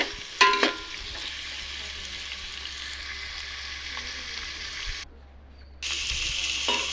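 Chicken biryani masala with beetroot is stirred in a hot pan, giving a steady close sizzle with a few scraping clinks of the spoon and a brief hush before the frying resumes.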